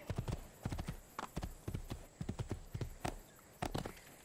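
Horse hooves clip-clop in quick, steady rhythm during a ride in the video game Assassin's Creed 2, close and clear with no talking over them.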